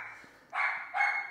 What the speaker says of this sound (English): And the dogs are going nuts.